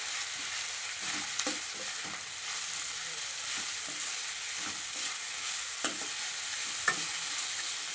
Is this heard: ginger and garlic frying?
yes